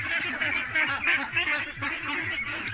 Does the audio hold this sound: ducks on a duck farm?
yes